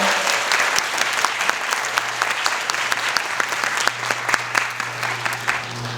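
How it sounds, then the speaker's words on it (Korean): Theatre audience applauding steadily after a stage performance in a drama theatre, dense clapping at an even level throughout with no speech over it. "박수 좀 맞아주세요."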